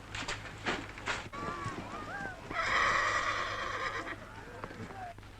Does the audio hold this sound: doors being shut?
no